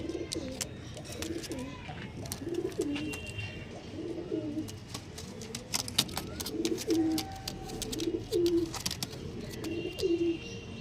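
Pigeons at a breeder's loft, likely Kalshira Kalanka birds, give repeated soft throaty coos in a steady rhythm across the whole stretch, close by, with faint chirps and a distant car in the background.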